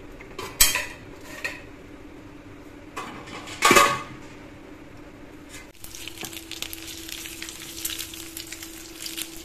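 Egg and chickpea pulao cooks in a pan. A few utensil clanks and scrapes come first, then a steady sizzle of bubbling food rises and continues at moderate volume.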